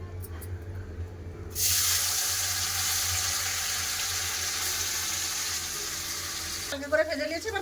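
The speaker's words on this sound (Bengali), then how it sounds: "ওই ঘিয়েতে পনির ভেজে নেবো" Paneer frying in ghee for matar paneer pulao, a sudden loud, even sizzling hiss that holds steady for several seconds, close by, then drops away as a spatula clinks and stirs.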